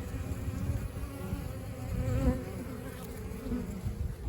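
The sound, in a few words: honey bees buzzing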